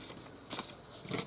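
Scissors snip through paper for a paper bag journal, with three or four short close crisp cuts in quick succession and no talking.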